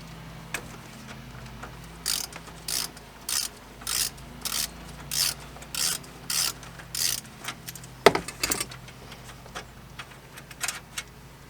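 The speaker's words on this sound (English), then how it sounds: "that's a 10mm bolt we're going to undo on the other side" A 10mm bolt being undone with a ratchet on the dashboard of a 1999-2007 Chevrolet Silverado, giving a steady run of sharp ratcheting clicks in bursts, close and fairly loud, with one louder knock partway through.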